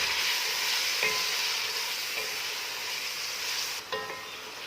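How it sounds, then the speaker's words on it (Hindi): Chopped tomatoes hit golden-brown onions in a hot pan, and a constant loud sizzle follows. Stirring strokes scrape through it a few times. "अब मैं इसके अंदर 2 बड़े साइज के कटे हुए टमाटर डाल दूंगी और इसे हिला लूंगी।"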